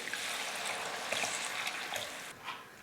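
Water trickles and splashes as it is poured into a pan of broad bean masala curry, a soft, steady kitchen sound that tapers away near the end.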